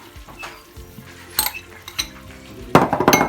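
Potato pieces tipped into hot cooking oil for shallow frying, heard as scattered clinks of utensils against the pan followed by a louder burst of sizzling and clattering near the end.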